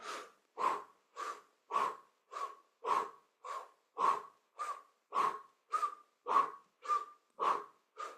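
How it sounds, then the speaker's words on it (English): Powerful rhythmic breathing from a kundalini yoga kriya: fourteen sharp, forceful exhales come at a steady pace of about two per second, close and loud, with no talk. "Make it a really powerful movement with the breath."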